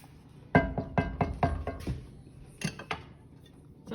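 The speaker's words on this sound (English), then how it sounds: "I'm going to change over to my whisk here." A metal whisk clatters in a skillet of baked mac and cheese sauce, giving a run of quick, close clinking taps against the pan that comes in two short bursts with a pause between them.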